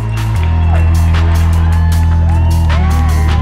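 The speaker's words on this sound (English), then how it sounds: "We've never seen people line up and cheer our trucks as they come in from the line." A crowd lines the road cheering and whooping as fire trucks come in from the Lake Christine Fire line, a loud continuous roar of voices with shouts rising over a low rumbling engine hum.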